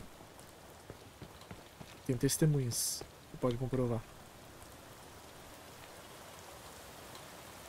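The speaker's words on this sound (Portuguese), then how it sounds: "Olha a chuva, que gostosa." Rain in the video game Arena Breakout Infinite makes a constant soft patter throughout, while a person talks briefly over it in the middle and a faint higher tone rings once.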